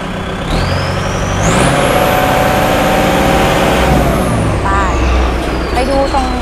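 The engine of a used Kubota L5018 tractor runs loud and close, revving up to a sustained roar and then easing back down, while someone talks over it.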